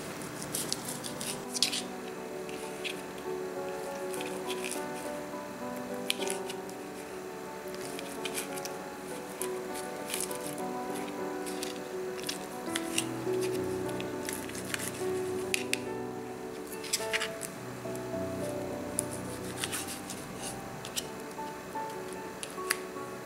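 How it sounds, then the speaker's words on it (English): A knife cuts a cooled, boiled lemon into bite-sized pieces for lemon pickle. Small, soft clicks and taps repeat irregularly and close by, with no one talking. "This is now cool. I'll cut it into bite-sized pieces."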